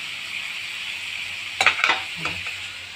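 Moong dal tipped into a hot pan with turmeric, a steady frying sizzle followed by a few sharp scraping stirs against the pan, close and fairly quiet.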